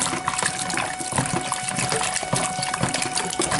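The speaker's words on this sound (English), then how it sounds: "I'm gonna rinse it off a little bit more with some water, some running cold water" Cold tap water runs steadily over oxtails that were pre-soaked in vinegar water, a continuous close splashing rush with no pauses or talk.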